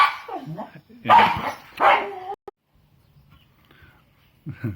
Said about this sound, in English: sorry, a little dog discipline issue going on.